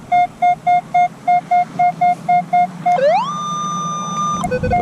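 A metal detector sounds a possible quarter signal as a series of short, evenly spaced beeps, then a tone that sweeps upward and holds steady, loud and close against faint outdoor background.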